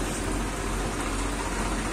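Rain falling steadily in a village, a dense, even hiss of drops covering everything without a break.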